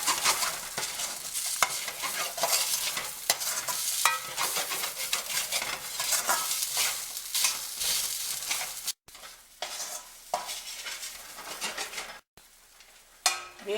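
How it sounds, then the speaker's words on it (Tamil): Ground toor dal sautéing in oil for beans usili, a steady close sizzle with scraping stir strokes throughout, pausing briefly twice near the end. "அரைச்ச துவரம்பருப்பை இந்த எண்ணெயிலே வதக்கணும்"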